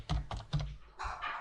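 Short run of typing on a computer keyboard, three distinct key clicks followed by a quicker burst of keystrokes, close and fairly quiet with no voice.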